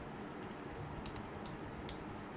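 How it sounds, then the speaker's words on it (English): Steady, quiet keyboard typing on a Samsung Galaxy Tab S7+ running DeX: a run of light, close key clicks with no talking. "See, I can type it easily without any problem."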